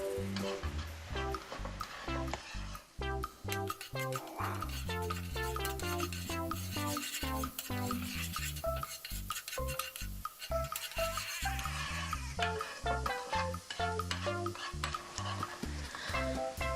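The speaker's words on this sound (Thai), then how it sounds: "ผัดเนยกับกระเทียมจนหอมดีเลยนะคะ" Chopped garlic is stir-fried in butter in a pan, a steady sizzle with frequent scraping and stirring strokes of a utensil, close and continuous, accompanied by music.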